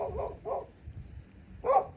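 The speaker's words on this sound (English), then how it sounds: "Those are the dogs." Dogs bark from a moderate distance in the Irish countryside, with three short barks in an uneven rhythm, the last one slightly louder, against quiet outdoor ambience.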